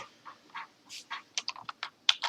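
Keys tap on a computer keyboard as a password is typed, a quiet, uneven run of about a dozen soft clicks that grows slightly quicker and louder toward the end.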